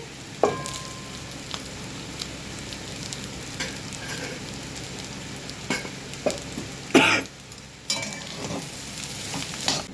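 Boiled rice stir-fried in a pan for egg rice, a steady soft sizzle with intermittent spatula scrapes and a few sharper clatters, close by, with a brief cough.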